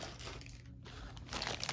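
Plastic bag crinkling while a New Angeles board game is unboxed: soft, continuous rustle and crunch up close, growing louder and busier toward the end.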